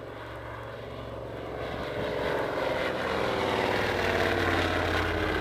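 A metal-winged propeller airplane at an autumn airshow at Old Warden drones steadily, its engine tone swelling gradually louder as it approaches, with no talk.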